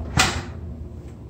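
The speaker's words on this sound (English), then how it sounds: "Just let me go back, shut this door." A door being shut inside a Naples, Florida model home, near the garage: a single close thud with a short rattle, then a quiet room tone and a faint second knock.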